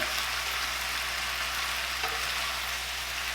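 Butternut squash ravioli reheats in a small pan, giving a steady, even hiss of sizzling oil with no talk, broken only by a faint clink at the end.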